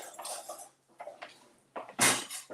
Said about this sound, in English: we're just going to stir this up so we can get it all combined